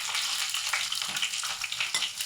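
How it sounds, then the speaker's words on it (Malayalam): Onion and garlic fry in hot oil with a steady, close sizzle, added after mustard and fenugreek seeds have popped for a fish curry. The hiss carries no talk and stays even throughout. "വെളുത്തുള്ളി ഇട്ട് കൊടുത്ത്"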